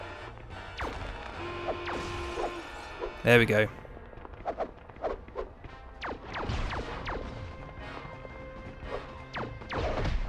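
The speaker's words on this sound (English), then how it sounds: "can I break the glass?" A short loud glass-breaking crash in the Family Guy video game on PS2, rising out of background game sounds and followed by scattered thuds and clatter while someone talks briefly.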